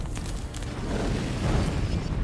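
An artillery shell impact explodes in a deep, rumbling boom that rolls on for about two seconds, heavy low-end thunder with a crackling tail, fairly loud and without speech.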